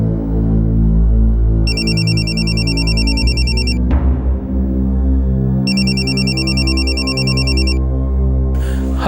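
A telephone rings with an incoming call in a tense crime-drama scene, two electronic ring bursts repeating over a steady low musical drone, with a soft thud between them.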